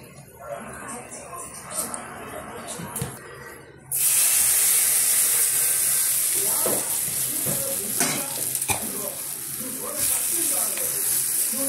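Tempering spices hit hot oil for green chilli pickle and burst into a loud, steady sizzle and hiss that runs unbroken, with a few crackles. Quieter kitchen handling comes before it.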